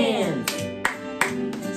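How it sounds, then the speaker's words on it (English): Children clap their hands during a circle-time song, several separate sharp claps at uneven intervals mixed with singing voices. "Clap your hands"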